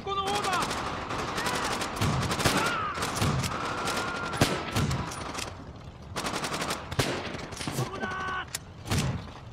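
Gunfire from a weapon in the Call of Duty: World at War campaign rings out in rapid bursts of sharp shots, with a brief pause midway before more volleys, fairly quiet overall.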